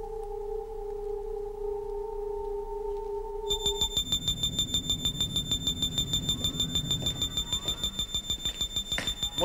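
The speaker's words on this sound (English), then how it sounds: "It's the intruder alarm." An intruder alarm in a 1973 science-fiction television episode: a steady electronic tone gives way to a loud, rapidly pulsing high-pitched alarm that keeps repeating.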